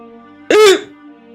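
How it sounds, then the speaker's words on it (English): One short, sharp hiccup breaks through a faint steady background hum, then quiet returns. "I think that was a hiccup."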